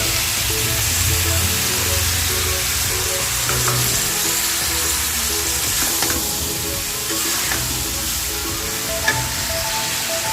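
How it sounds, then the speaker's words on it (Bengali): Vegetables with a water-mixed chilli and turmeric paste fry and get stirred in a pan, a steady loud sizzle running throughout with the scrape of a spatula and occasional clinks, no voices. "আমি এখন এই সবজিটা ভালো করে কষে নেব"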